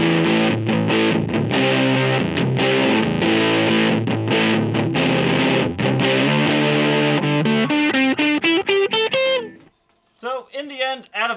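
Electric guitar played through the built-in effect of a 1970s Kay/Univox Les Paul gives loud, grungy, distorted strummed chords. The final chord rings out, cuts to near silence, then a few brief wavering notes follow.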